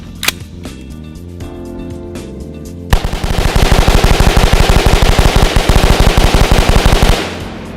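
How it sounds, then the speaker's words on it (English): An AR-15 rifle fitted with a Fostech Echo binary trigger fires a few single shots, then a long rapid string of loud, close gunfire in fast even bursts that stops abruptly. "Pull the trigger once, the hammer will fire, right? Gun goes bang, bolt comes back, goes forward again"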